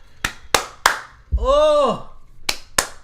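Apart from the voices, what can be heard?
people clapping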